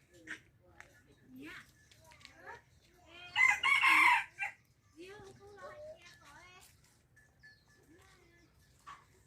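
A rooster crows once, loud and close, in the middle of a farmyard scene, with adults and children chatting before and after it.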